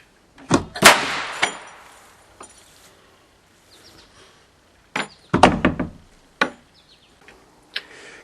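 A door swings open and sets off an airsoft trip mine, sharp wooden knocks and thuds, a brief hissing burst, then a second cluster of bangs and rattles followed by scattered light taps.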